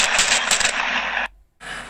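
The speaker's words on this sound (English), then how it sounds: "Surveillance video from the crime last month captured the sound of shots being fired." Gunfire during an armed robbery is caught on a surveillance recording: a rapid, harsh burst of loud cracking shots, followed by a sudden drop to near silence and then a return of steady background noise.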